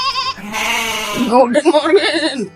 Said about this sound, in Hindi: अच्छा, यहाँ पर है बहुत सारी बकरियां।